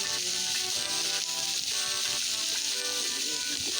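Garlic and onion sauté in a hot pan for a Filipino vegetable dish, giving a steady, close, bright sizzle that runs without break and has almost no talk over it.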